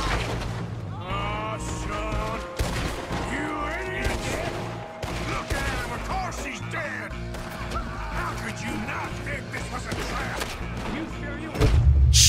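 Bolt-action rifle gunfire in a Red Dead Redemption 2 shootout, sharp loud shots and crashes scattered through busy game sound and music, with a person talking over the action.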